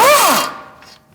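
A wrench on an 18mm socket loosens an oiled nut on a 2016-2019 Chevrolet Cruze steering rack, giving a brief loud metallic burst that fades into quiet.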